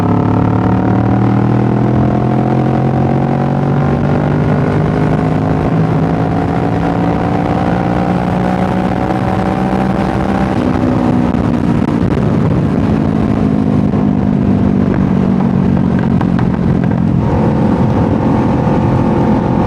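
A motorcycle accelerates hard on a closed road, its engine whining upward through the gears in steady rising sweeps, loud and close throughout, with no voices.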